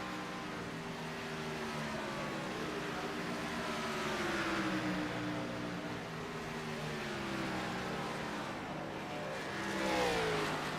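Race car engines roar continuously on the Iowa Speedway oval, pitch rising and falling as cars circle and pass, with a louder surge near the end.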